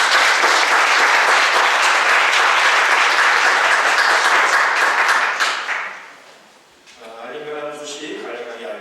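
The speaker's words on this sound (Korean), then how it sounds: "유준숙 청년 오늘 예배 나와 박수로 환영하겠습니다." A church congregation at a Sunday service claps loudly and steadily to welcome a young member, a dense wall of applause that fades out around six seconds before a voice begins speaking.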